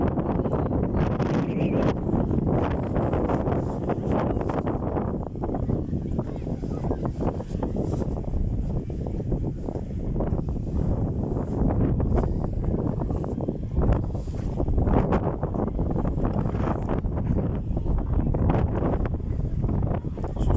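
Strong wind on a beach at Caen, France, buffets the microphone in a continuous, rough roar with gusty surges throughout.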